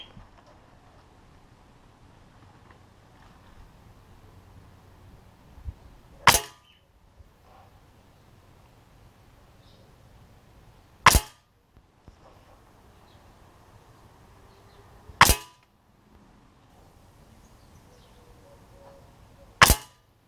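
Four sharp, snappy shots from an air rifle firing H&N Baracuda pellets ring out several seconds apart, separated by quiet outdoor background.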